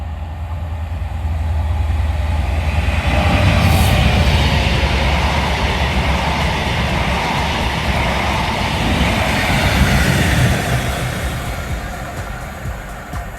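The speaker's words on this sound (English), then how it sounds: "to see the Inspiration train pass through on its way down to Derby" A UK train heading to Derby rumbles through a station at close range, its heavy roar swelling and holding for several seconds before gradually fading, with no voices.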